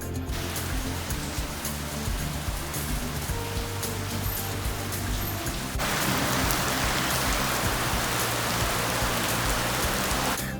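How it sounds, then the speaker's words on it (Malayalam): Steady, heavy rain pours down without pause, a dense hiss that grows a little louder partway through. "മഴ ഇപ്പോഴൊന്നും കുറയണ മറ്റൊന്നും കാണുന്നില്ല"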